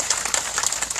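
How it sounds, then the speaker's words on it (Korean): Applause from a crowd at an outdoor rally in Soseong-ri, a steady patter of many hands clapping close by with no talk over it. "우리 두 분 동지분들께 다시 한번 큰 박수 주시기 바랍니다"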